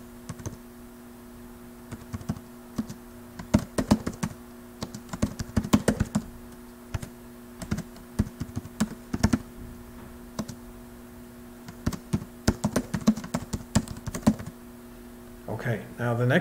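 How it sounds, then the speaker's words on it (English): Someone types rolling credits on a computer keyboard: close, crisp bursts of keystrokes separated by short pauses, with a steady low hum underneath. "Now I'm going to continue typing the credits."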